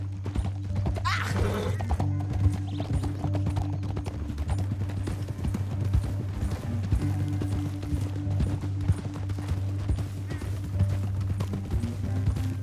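Horse hooves gallop in Red Dead Redemption 2 with a loud, steady clip-clop rhythm over a low rumbling bed, close and continuous throughout.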